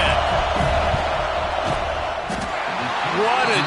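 A loud stadium crowd roars continuously in a football video game as the field goal unit lines up for a kick, a thick wall of cheering and noise with a few thuds mixed in.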